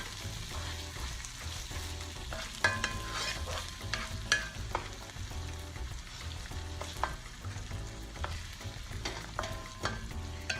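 Food cooking in a pan over medium-high heat just before ground masalas are added, with a steady sizzle broken by repeated stirring scrapes and knocks of a utensil against the pan.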